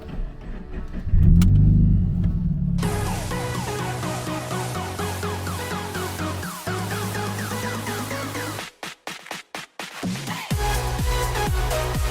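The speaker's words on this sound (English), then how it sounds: "let's get the car going" A car engine cranks and fires up, then idles and revs repeatedly with rising and falling pitch, loud and close, before cutting out briefly and catching again; the car is on a 1000-mile road trip in the Cape.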